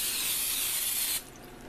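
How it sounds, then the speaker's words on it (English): Pam cooking spray hisses onto a cookie sheet in one steady, loud burst that lasts just over a second and then cuts off. A soft room hush follows, and no one speaks. "But I'm going to spray a layer of Pam"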